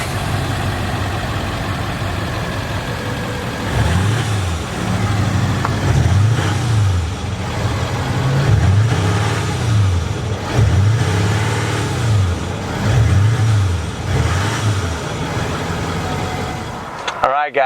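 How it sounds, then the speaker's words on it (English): The turbocharged diesel engine of a 2018 Nissan Titan XD Rocky Ridge K2 pickup idles in a low rumble, then rises and falls through several repeated revs, each a rising then falling engine note, with some speech around it. "Speaking of this turbo diesel, let's go ahead and fire it up and see what it sounds like."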